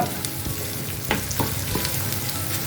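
Salted raw plantain pieces fry in hot oil, a close, steady crackling sizzle broken by a few sharp pops and stirring clicks, with no voices.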